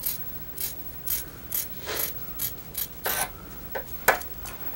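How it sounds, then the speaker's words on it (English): Regular fabric shears cutting along a marked line on fabric, heard as a series of crisp, close snipping and crunching strokes in a steady, slightly uneven rhythm with quiet pauses between cuts. "Or your regular shears, really good for this. And you're going to just cut on the line."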